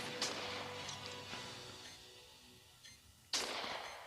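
Sniper rifle shots in the mobile game Sniper Warrior: a few sharp cracks ring out over background game noise, with a louder, nearer blast near the end.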